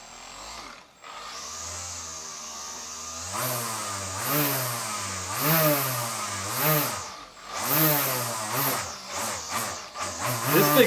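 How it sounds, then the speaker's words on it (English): A DIY Milwaukee M18 battery-powered string trimmer whirs and revs while cutting weeds, its motor pitch rising and dipping in repeated surges, close and fairly loud, with someone talking briefly over it. "Just some surgical weed whacking."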